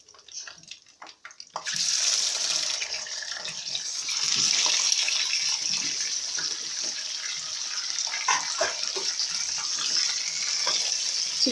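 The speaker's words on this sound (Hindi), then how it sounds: "चिकन को हम इसमें 2 मिनट तक फ्राई करेंगे।" Chicken pieces drop into hot oil for a korma and set off a loud, constant sizzle that fills the rest of the clip, with small spits and crackles mixed in.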